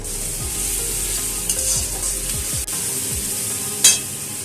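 Ginger and garlic paste being stirred into a frying onion mixture in a pan, with steady sizzling under repeated scraping strokes of a spoon, close and continuous, no talk.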